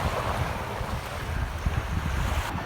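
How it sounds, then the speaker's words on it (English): Strong wind buffeting the microphone with a low rumbling roar, steady and close, with a faint wash of surf beneath. "Very windy here."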